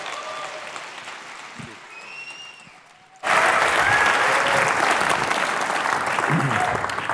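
A conference audience at a startup event breaks into loud, sustained applause to welcome the speakers onto the stage. The clapping follows a few seconds of quiet room noise and carries on to the end.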